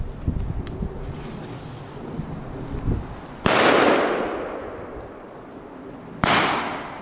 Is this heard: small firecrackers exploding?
yes